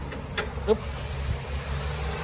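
A 2014 Toyota Altis 1.8E with its 1800cc engine idles quietly in a steady low hum, with a few faint clicks near the start and no talking.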